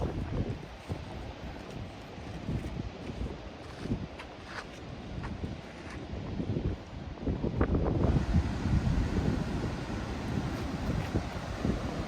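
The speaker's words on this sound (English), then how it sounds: "I can hear the waterfall." Upper Yosemite Falls heard from a flat stretch of the hiking trail as a steady, broad rushing roar, partly masked by gusty wind buffeting the microphone, growing slightly louder after the midpoint.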